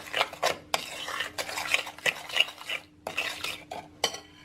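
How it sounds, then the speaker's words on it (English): A utensil stirs vanilla and sweetener in a mixing bowl, making close scraping and clinking strokes in an uneven rhythm, with no voices. "Give that a little stir through."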